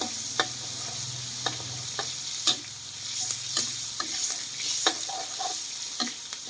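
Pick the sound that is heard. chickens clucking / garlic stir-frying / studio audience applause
garlic stir-frying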